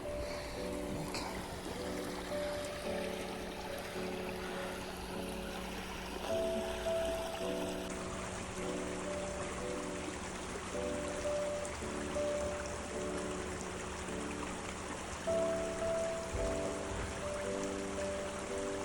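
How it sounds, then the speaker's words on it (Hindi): A small mountain stream trickles down into a campsite in the alpine Lauterbrunnen valley, giving a steady, soft, continuous wash of flowing water with faint tonal hum in the background and no talk. "ये देखिए वाटर स्ट्रीम है यहाँ पे, एक छोटी सी ऊपर से आ रहा है पानी इनके अंदर"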